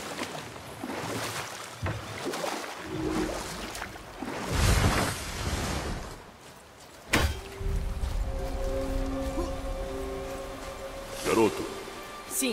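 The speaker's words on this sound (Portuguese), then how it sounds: "Nunca vi uma cachoeira tão grande." A very large waterfall in the God of War video game gives a broad, rushing roar of falling water, with voices and swelling music over it.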